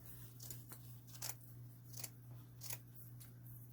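Scissors snip through burlap fabric in a series of quick, crisp cuts, several distinct snips spaced irregularly over a low steady hum, close and fairly quiet.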